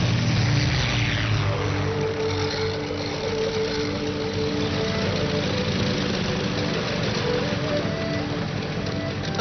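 A small cartoon airplane flies in to land, its propeller engine holding a steady, loud, buzzing drone throughout with no break.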